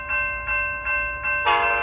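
An Amtrak Capitol Corridor passenger train near 105th Ave in Oakland sounds four short, evenly spaced horn blasts, then a louder final one, close and loud as it races past.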